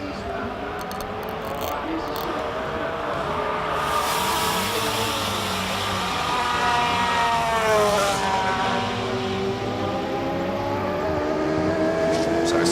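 A race car at the Simola Hillclimb sweeps through a bend, its engine note climbing and falling in pitch as it passes, heard at a moderate distance with a voice talking over it.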